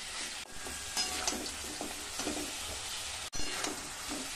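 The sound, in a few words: meat frying in a pan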